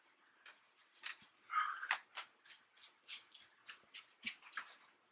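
A dog dashing around indoors, its claws and paws ticking on the floor in a quick, steady patter, faint and fairly close, with no talking.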